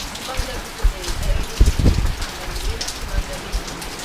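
Heavy typhoon rain falls in Naga City, Philippines, a steady close wash of rain with irregular heavier splatters and thumps, and voices talk over it at times.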